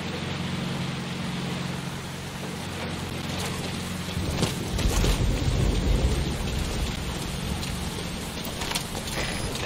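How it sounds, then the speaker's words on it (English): Heavy rain pours steadily in the Metal Gear Solid V: Ground Zeroes game world, joined midway by a deep rumbling roll of thunder that swells and fades under the constant downpour. "That rain just won't let up."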